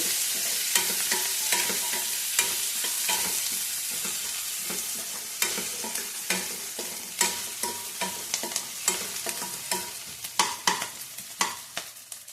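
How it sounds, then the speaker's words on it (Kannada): Chopped onions with a pinch of salt fry in a pan for an aloo methi matar curry, a steady sizzle broken by regular scraping stirs of a spatula, close and clear with no talking. "ಈರುಳ್ಳಿ ಬೇಗ ಫ್ರೈ ಆಗುತ್ತೆ ಸ್ವಲ್ಪ ಸಾಫ್ಟ್ ಬರುತ್ತೆ ಅಂತ ನೋಡಿ"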